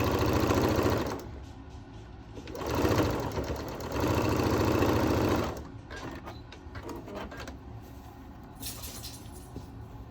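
A sewing machine stitching an opened seam on a tulip quilt block runs in two loud, steady bursts, the first brief and the second longer, separated and followed by quieter handling noise.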